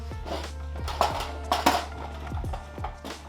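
Chopped peppers tumble into a roasting tray with scattered clinks and clatters of metal and pieces landing, a few sharper knocks rising above a steady low background hum.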